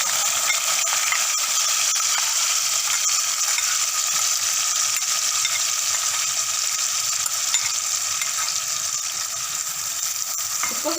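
Onions sizzle steadily in hot oil in a pan for Arbi curry, a constant dense hiss with faint stirring scrapes underneath, close and unbroken, no voices.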